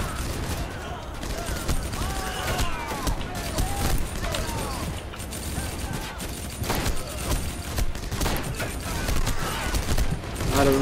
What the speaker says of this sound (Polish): Tutaj strzelają z każdej strony, z lewa, z prawa, z środka